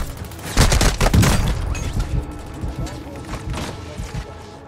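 Gunfire in the video game Warzone: a short cluster of loud close shots near the start, then fainter scattered reports fading out, with a voice talking over part of it.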